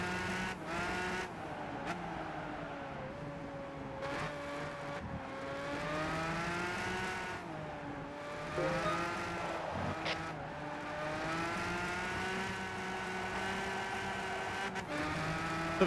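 A Chevrolet Corvette Z06 race car drives steadily in a racing game, its engine droning with shifting pitch as it revs and eases across a continuous run, with brief dips between gears.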